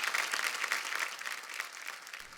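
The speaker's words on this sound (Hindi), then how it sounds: "जोरदार तालियां गीता जी के लिए" Audience applause for Geeta on a Hindi comedy show stage, a steady dense patter of many hands holding evenly for a couple of seconds before tapering slightly at the end.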